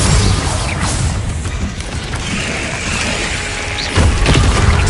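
Spell effects from Hogwarts Legacy, the Glacius freezing charm and the Bindo binding spell, fill a dense wall of whooshing magic and booming impacts, with a heavy thump rising near the end.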